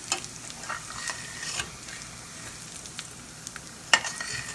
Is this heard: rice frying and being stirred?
yes